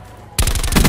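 Loud rapid automatic gunfire from Call of Duty: Black Ops 4 bursts in abruptly after a quiet moment, a fast steady stream of close shots with no talk over it.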